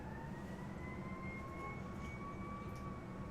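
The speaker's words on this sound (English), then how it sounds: "Really loud sirens." Loud sirens wail outside, a steady drawn-out two-tone pitch that climbs slowly over a constant low rumble and stays at the same level throughout.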